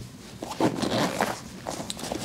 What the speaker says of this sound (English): Open that up for you. It's got good quality zippers on it.